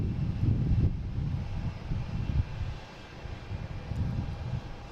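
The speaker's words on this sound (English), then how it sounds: "There's Delta heading to, going to Salt Lake City." A Delta Airbus A321neo, flight 445 to Salt Lake City, rumbles at Boston Logan as a low, moderately loud engine roar with gusty wind buffeting the microphone.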